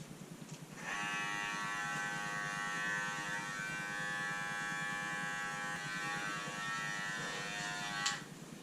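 Electric hair clippers fitted with a number 1 (1/8 inch) guard run at a barbershop, a steady close buzzing drone that starts about a second in and holds for roughly seven seconds before cutting off.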